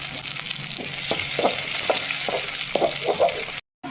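Onions, green chillies and curry leaves fry in hot oil for a chicken curry, a loud steady sizzle broken by rhythmic scraping stirs about every half second, near and with no voice, cutting off briefly at the end.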